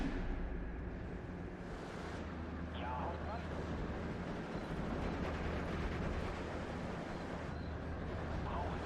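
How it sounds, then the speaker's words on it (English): Incoming artillery shells burst in the Steel Division 2 wartime strategy game, a steady rumbling roar of distant blasts and wind-like noise running throughout, with a voice talking over it. "that artillery's coming in hot"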